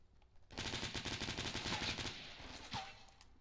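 Fortnite gunfire rattles out as one close, loud rapid burst lasting about a second and a half, then trails off into quieter shots.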